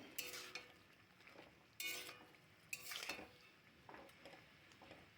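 Basella flowers and meat are stirred and fried in a pan. A utensil scrapes and clinks against the metal in several sharp bursts, over a faint, quiet sizzle.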